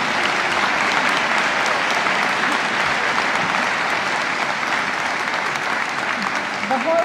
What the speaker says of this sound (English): let's all give them a round of applause and thank them all for being with us